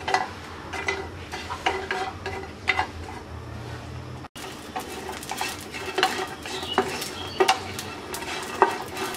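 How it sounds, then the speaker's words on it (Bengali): Dried churi fish frying in a pan: continuous crackling sizzle with repeated scraping and clinking of a utensil stirring, close and moderately loud. "শুটকি ভাজা হয়ে গেছে"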